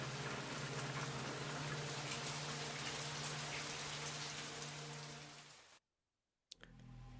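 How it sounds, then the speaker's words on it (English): Steady rain falling in the horror video game Fatal Frame 3, a dense hiss of drops on surfaces with a low hum beneath, cutting off abruptly to silence near the end before a faint return. "It's always raining here."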